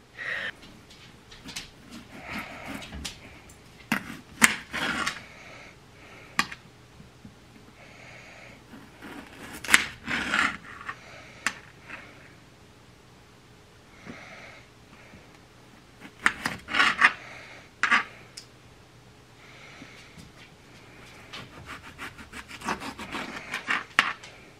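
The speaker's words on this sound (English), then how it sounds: "So I'm going to go ahead and start cutting these potatoes." A knife cutting potatoes on a cutting board, giving intermittent close chops and scraping taps in scattered bursts separated by quiet gaps, with no talking.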